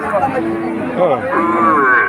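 A cow lows loudly and close at a calf and cattle market in Betaga, one long wavering moo rising and stretching across the whole moment.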